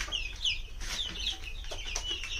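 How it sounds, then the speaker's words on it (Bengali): Egg-laying hens cluck and chatter in a steady, close flock, with several overlapping calls and short squawks running throughout. "আমার এগুলো সব মুরগি ডিম পাড়া"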